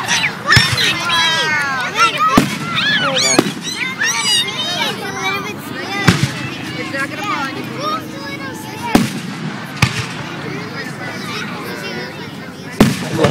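Fourth of July fireworks exploding outdoors, sharp booming bursts every few seconds with crackling between, while an excited group of adults and children talks and exclaims nearby.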